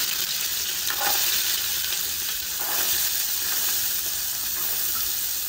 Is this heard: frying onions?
yes